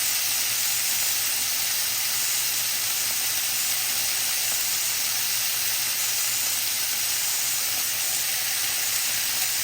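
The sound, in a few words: beef frying in a pan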